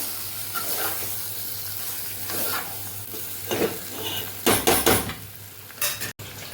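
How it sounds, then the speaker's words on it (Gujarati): Red chili powder being stirred into spices in a pan for a Kathiyawadi potato curry, with a soft frying sizzle underneath and several scraping strokes of a spoon against the pan, the last ones louder and choppier. "લાલ મરચું પાવડર અહીં આપણે ઉમેરશું મસાલા સાથે સરસ આપણે મિક્સ કરી લઈશું"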